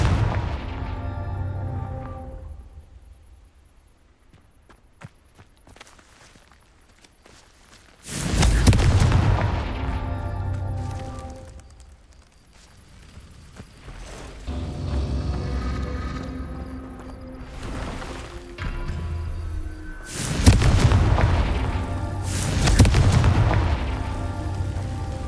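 Confringo blasting spells exploding in Hogwarts Legacy, three heavy booming blasts with rumbling decay over low game music, the loudest near the start and end.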